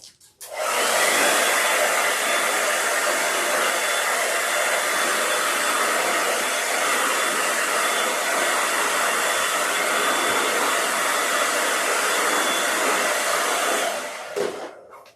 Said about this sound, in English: I'm going to use my hairdryer real quick and give it a blast of heat